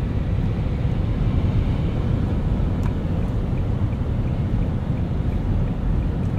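Steady tire roar, road rumble and wind hiss inside a moving 2024 Nissan Leaf SV Plus, a continuous low broadband drone with no talk.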